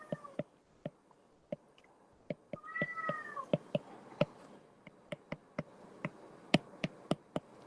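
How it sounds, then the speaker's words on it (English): A small, faint meow rises and falls in the middle, amid sharp repeated clicking taps that continue throughout. "This kitten wants to go out"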